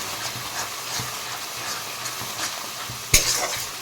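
Chicken masala stirred into a frying pan for an Odisha-style mushroom fish curry, with a low sizzle and soft, irregular scraping strokes, ending with a single sharp clack of utensil on pan.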